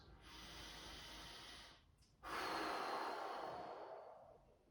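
Deep breaths taken during a hip flexor stretch, heard as a long, steady airy inhale, a short pause, then a louder drawn-out exhale that slowly tapers, close to the mic with no talk.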